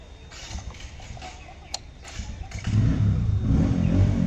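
A Hero Hunk 150cc motorcycle engine idles, then revs up, rising to a louder, steady low drone in the second half. A few sharp clicks come early, and no one speaks.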